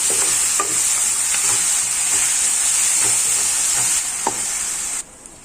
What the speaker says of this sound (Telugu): అలాగే కొత్తిమీర కూడా వేసేసుకుంటున్నాను. ఇవి కూడా బాగా ఫ్రై చేసేసుకోవాలి.